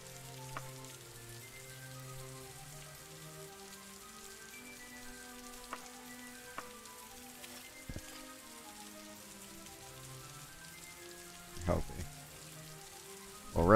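Rain falls in Daggerfall Unity as a soft, steady hiss of drops, faint and continuous beneath low game music, with a few brief louder knocks near the end.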